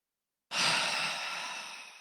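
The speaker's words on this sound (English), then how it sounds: "we're going to inhale through the nose and then exhale out the mouth" One long, breathy exhale through the mouth during morning yoga breathing, close and soft, starting abruptly after a moment of silence and trailing off gently.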